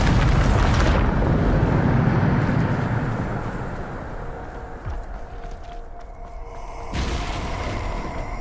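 A Bombarda spell explosion in the video game Hogwarts Legacy: a loud, broad blast that rumbles and slowly fades over several seconds, followed by a second, smaller burst of noise near the end.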